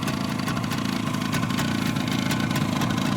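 Restored 1972 Suzuki T250 two-stroke motorcycle engine runs at a steady idle, close and continuous, with a buzzy, rapid pulsing putter and small crackles.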